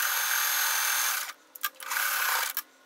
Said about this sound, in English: I am going to sew right there.